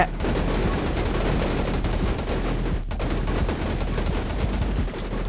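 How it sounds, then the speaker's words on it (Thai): Nonstop rapid shotgun fire from the video game 10 Minutes Till Dawn, a survival shooter against monster hordes, forming a dense, steady crackle of overlapping blasts with one brief break midway. "ต้องยิงอัดเลยอ่ะ นี่สินะลูกซองแท้"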